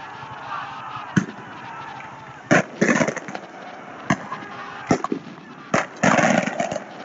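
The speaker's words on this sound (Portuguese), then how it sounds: "o maluco dando tiro ali, ó" Several sharp gunshots crack out at irregular intervals, some in quick pairs, over a constant background hiss and murmur.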